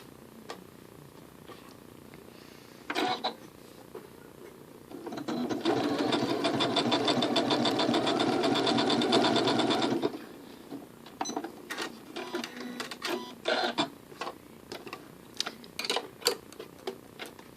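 A Janome Skyline S7 sewing machine stitches in a steady, fast mechanical whir for about five seconds, with scattered clicks and handling taps before and after.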